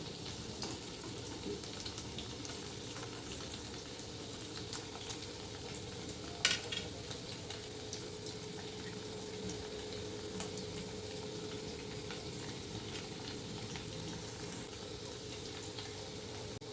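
Constant soft sizzling of potatoes frying in a wok, with occasional light scrapes of a utensil and one sharp clink midway.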